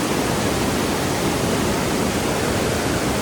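A rushing mountain stream flows beneath a footbridge, a loud, constant broadband roar of water running unbroken from start to end with no voices over it.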